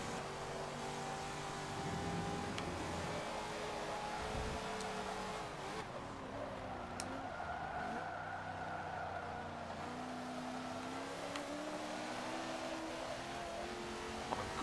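Race car engine revving and accelerating in the Forza Motorsport 7 racing game, a steady mid-loud drone with rising and falling engine pitch and brief tire squeal, continuing throughout with no talk.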